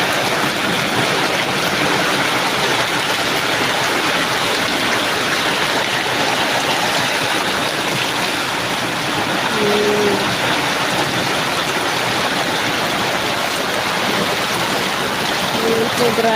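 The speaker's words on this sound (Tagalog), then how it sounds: "grabe ang lakas ng ulan dito sa amin" Heavy typhoon rain pours down steadily, a loud, dense hiss with no break, close and constant throughout.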